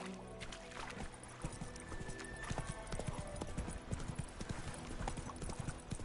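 Roach the horse gallops in The Witcher 3 video game, rapid rhythmic hoofbeats clip-clopping at a steady pace, close and continuous over a low ambient background.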